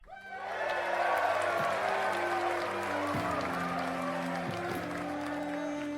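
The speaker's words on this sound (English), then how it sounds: "The crowd erupts in cheers and clapping" A crowd claps and cheers steadily from a short distance, with music sustaining underneath the applause.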